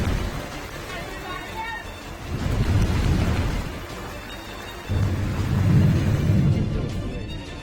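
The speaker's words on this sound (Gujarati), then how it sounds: "ધોધમાર વરસાદ પડવાનું પણ શરૂ થઈ ગયું છે" Heavy monsoon downpour in Gujarat, a steady dense roar of rain with deep rolling thunder swelling twice, loud and continuous with no voices.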